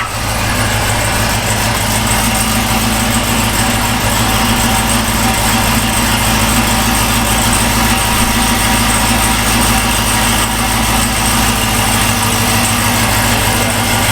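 An LT4 V8 swapped into an Aston Martin Vantage idles loudly with its exhaust valves open, a steady deep rumble with strong low pulsing that holds constant throughout, no talk.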